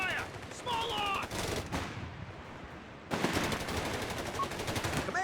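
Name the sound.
small arms fire from the video game Company of Heroes 3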